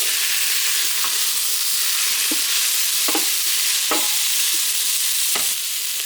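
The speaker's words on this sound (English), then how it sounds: "now I'm going to add in the sausages" Vegan sausages browning in an Instant Pot with garlic give a steady close sizzle and hiss, broken by a few soft scrapes and clicks of a utensil stirring them around.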